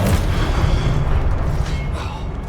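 A fiery Confringo spell blast in the Hogwarts Legacy video game, a loud sustained boom with a heavy rumbling low end and crackling noise that stays dense and steady across the moment, with no voices over it.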